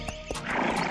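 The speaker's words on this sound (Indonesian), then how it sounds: "Tiba-tiba, seekor kuda putih mendatangi mereka." A white horse neighs as a sound effect in a doll story, a loud close whinny with a sharp start that rises into a shrill shaking cry within about a second, alone without voices.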